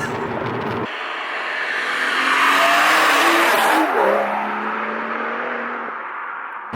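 A manual BMW M140i in sport mode accelerates hard from around 2000 RPM, its engine note climbing in a loud, sustained rising roar heard from inside the car, with no talking over it.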